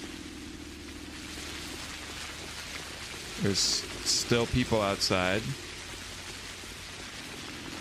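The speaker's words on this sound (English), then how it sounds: "Okay, it's raining." Steady rain hisses in the video game Pathologic, a soft, even wash of patter throughout, with a voice briefly speaking over it midway.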